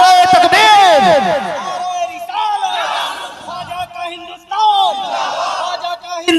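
Crowd at a Sunni Islamic religious gathering in India roaring back the Naara-e-Takbeer chant, a loud massed shout of many voices that swells, dips and surges again.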